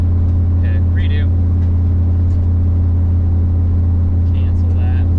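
A car engine with a Holley Terminator X EFI system idles with a loud, steady low rumble, the wheels spinning at launch. A short higher whine comes through twice, and a person talks over it.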